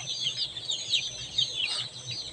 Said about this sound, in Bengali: অরিজিনালি দেশি মুরগির বাচ্চা